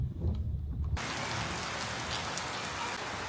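After a brief muffled moment, steady heavy rain suddenly fills the scene with a continuous, close hiss.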